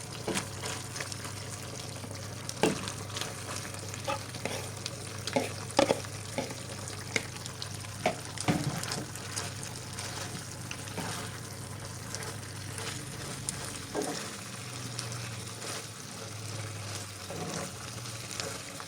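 Beef or other meat and carrots fry in a pan for a Korean-style salad, with a steady sizzle interrupted by occasional scraping stirs.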